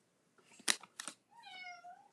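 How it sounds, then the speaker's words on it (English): A pet cat named Boots meows indoors, wanting to be let outside, with a couple of short sharp calls followed by one longer drawn-out meow, fairly close and moderately quiet. "Hold on, my cat wants to go outside."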